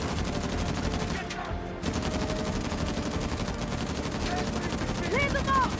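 Sniper and automatic gunfire in a firefight from the video game Uncharted: The Lost Legacy, a steady dense rattle of shots over loud game ambience with a brief drop-out partway through.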